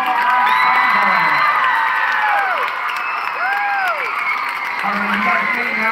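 Applause mixed with cheering, whoops and children shouting from a large audience at an outdoor school music festival, honoring a middle school instrumental ensemble; steady and loud throughout, with excited voices rising over the clapping.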